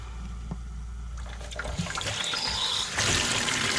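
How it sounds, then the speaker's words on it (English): Fresh water runs from an outside tap through a hose pipe into a darkroom sink in a shed, a steady trickling flow that grows louder and splashier partway through and keeps going to the end. "I've got fresh running water that's coming from the outside tap via a hose pipe into the sink."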